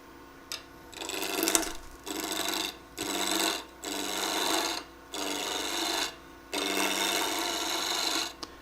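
A wood lathe spinning a spin top blank while a tool cuts into it, giving loud rasping scrapes in repeated bursts of about a second, separated by short pauses.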